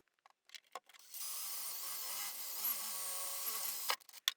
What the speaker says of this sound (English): So I'm going to pre-drill for my screw.